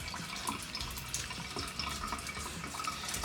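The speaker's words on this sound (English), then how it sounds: "Add a little bit more water." Water pours steadily into a bowl of waffle batter being mixed at home, a continuous close splashing wash with no talking.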